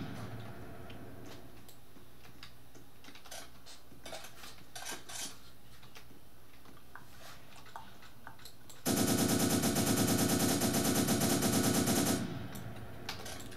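Gunfire in the Roblox game Prison Life: after quieter clicks and game noises, a loud, rapid machine-gun-like burst rattles for about three seconds, then stops.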